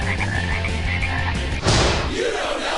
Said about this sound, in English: Man, why are all these frogs falling from our ceiling?